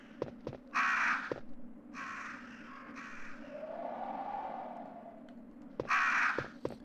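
Crows cawing in the video game Resident Evil 1, with several loud, harsh bursts of calls separated by quieter stretches over a low droning ambience and sharp clicks.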